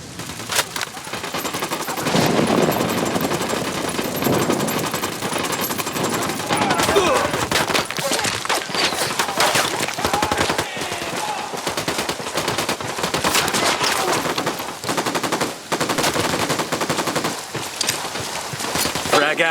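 Sustained bursts of automatic gunfire and scattered single shots in the video game Ghost Recon Wildlands, loud and dense, rattling almost continuously with faint voices underneath.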